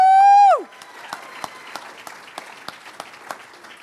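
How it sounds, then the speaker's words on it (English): An awards-ceremony audience gives scattered, light applause, a few separate claps spread over several seconds, right after a loud voiced 'woo' cheer that opens the clip. "Let's hear a round of applause."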